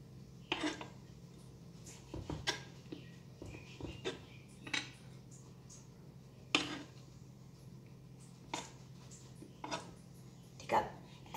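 A knife cuts cuttlefish into small pieces on a board, producing a series of distinct, irregularly spaced chops and taps under someone talking throughout.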